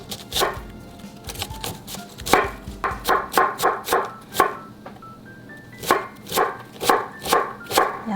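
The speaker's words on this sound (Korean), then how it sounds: "양배추도 최대한 그냥 잘게 썰어 줍니다." Knife chopping cabbage finely on a board for rice-paper dumplings, a run of sharp rhythmic cuts in quick bursts with short pauses, close and clear, with no talk.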